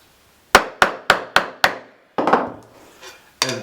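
Hammer blows on clutch corks set in a 1935 Panther M100 motorcycle clutch plate: five sharp, evenly spaced taps close up, a pause, then a few softer, uneven knocks and a final hit.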